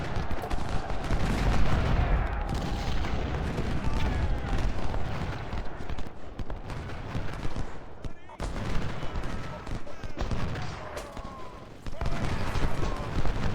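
Continuous battlefield gunfire in the Civil War strategy game Ultimate General: Civil War, rolling musket volleys and booming cannon layered densely, loud and sustained with a couple of brief lulls, while a voice talks over it.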